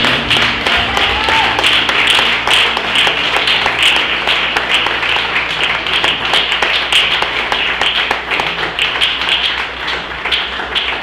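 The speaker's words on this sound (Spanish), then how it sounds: "aplauso a la fidelidad del Señor" A church congregation applauds during a Sunday service, a dense, continuous wash of clapping that stays loud and steady throughout.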